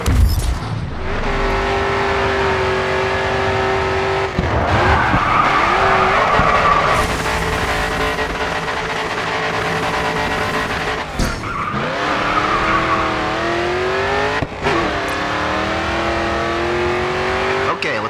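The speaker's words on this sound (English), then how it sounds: "Get some speed up, tap the brake, and steer hard into the next turn" Race car in the GRID 2 video game drifting through a corner, tires skidding and squealing loudly over a steady engine roar that rises and falls with throttle for the whole stretch, no voice over it.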